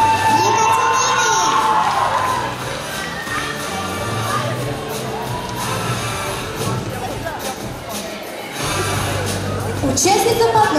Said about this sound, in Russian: Ваши аплодисменты для Екатерины.